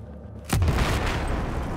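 A heavy explosion in the video game Battlefield 4 bursts with a sharp, loud onset, then rolls into a sustained low rumble and debris noise.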